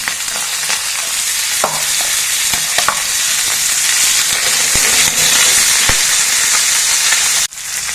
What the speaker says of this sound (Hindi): फूल गोभी हमने 1-2 मिनट घी में भून लिया है